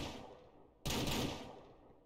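A single gunshot fired while hunting in the game Ranch Simulator: one sharp, loud broadband crack that decays over about a second above a quiet ambient background, with no talking.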